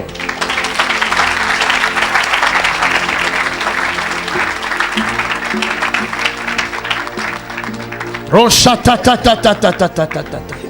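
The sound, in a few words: congregation applause at a church service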